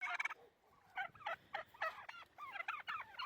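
Beltsville Small White turkeys gobble in a series of quick, warbling bursts, one clear call at the start and then several rapid trilling gobbles following close together, fairly near and moderately loud with no talk.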